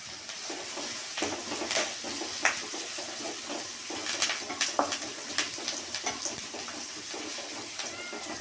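Curry leaves frying in hot oil for a banana stem stir-fry, a steady crackling sizzle with sharper pops and spits scattered throughout, close up and without speech.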